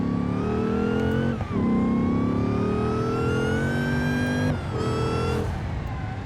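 A car in BeamNG with traction control off drives steadily and accelerates, its engine tone rising and falling through gear changes, loud and close with a brief dip mid-run and no talk.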